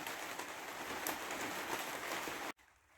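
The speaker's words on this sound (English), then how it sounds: "This rain's just not giving up at all today" Steady rain falling outside a cabin, a dense continuous hiss of drops on surfaces that runs unbroken before cutting off sharply near the end.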